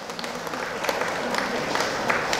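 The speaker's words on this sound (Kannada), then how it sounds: "ಸರ್ ಜೋರ ಚಪ್ಪಾಳೆ ತಟ್ಟಿ ಸರ್" Scattered audience clapping at an awards and felicitation ceremony for a Karnataka association's 91st anniversary, moderately distant and uneven, with a murmur of voices underneath.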